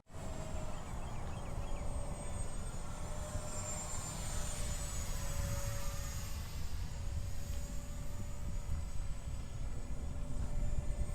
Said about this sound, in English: So here it is, the X-Fly Twin 50 SU-27. Great flying little plane, no trim whatsoever.